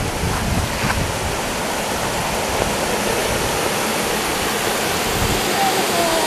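A clear mountain river in the Oku-Mikawa hills of Aichi, Japan, rushes steadily in a dense, continuous wash of water noise that stays loud and even from start to finish, with no voices over it.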